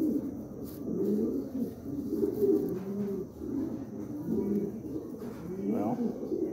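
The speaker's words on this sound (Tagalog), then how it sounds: "Gandang ibon." Soft, repeated cooing of a dove or pigeon, low and steady, continuing in rolling phrases over a quiet background.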